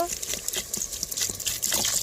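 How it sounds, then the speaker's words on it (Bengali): Water poured into browned, spiced beef in a cooking pot, a steady liquid trickle and splash running close by for about two seconds with light kitchen clatter. "এবারে পানি দিয়ে দেবো"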